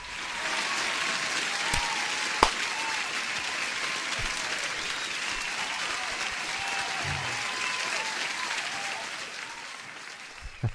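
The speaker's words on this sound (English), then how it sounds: "Oh my god, huge applause to Spy Girl." Applause sound effect on a live day-trading stream, a dense, continuous wash of clapping with a couple of sharp clicks, steady and fairly loud for about ten seconds before tapering.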